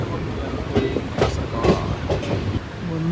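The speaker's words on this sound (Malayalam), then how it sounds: "ഏതായാലും അങ്ങനെ പോയിക്കൊണ്ടിരിക്കുകയാണ് ട്രെയിൻ." A passenger train runs along the Kerala coast toward Thalassery and Kasaragod. It is heard from inside as a loud, steady rumble with rhythmic clickety-clack wheel beats over the rail joints and a brief squeal near the end.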